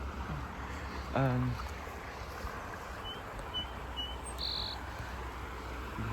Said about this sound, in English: The birds, it makes it sound like spring.